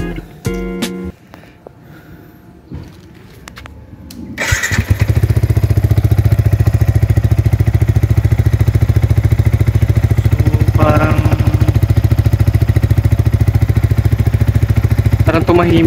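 A Yamaha MT15 motorcycle with an Akrapovic hexatip exhaust and a dB killer silencer fires up after a few quiet clicks and a voice, then holds a loud, steady, close engine drone.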